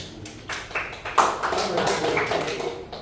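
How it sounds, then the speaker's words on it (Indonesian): An audience claps hands, with a scatter of sharp claps that thicken into a brief burst of clapping, heard close while people talk over it. "Tepuk tangan lagi."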